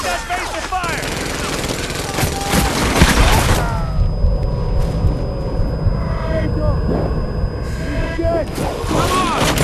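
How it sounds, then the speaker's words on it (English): Loud, dense war-game gunfire fills the scene in Brothers in Arms: Hell's Highway on Xbox 360 as squadmates lay down cover fire, with rapid rifle and machine-gun bursts and booms, and shouting voices mixed in throughout. "Corian, get moving and get Santa some goddamn cover fire!"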